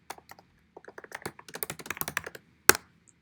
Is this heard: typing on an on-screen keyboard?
yes